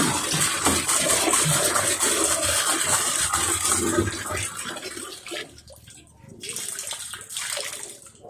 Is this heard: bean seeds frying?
no